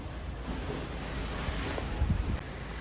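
Ocean waves wash far below a cruise ship balcony, a soft continuous surf hiss mixed with wind, fairly faint and with no talking.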